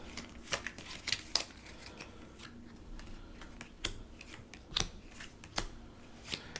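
Playing cards shuffled by hand during a board game, a series of soft close-up riffles and taps in irregular bursts, with no talking.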